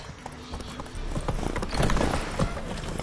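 Steady clip-clop of hooves on a hard surface with occasional horse snorts and whinnies, fairly close, over a low ambient hum in The Witcher video game.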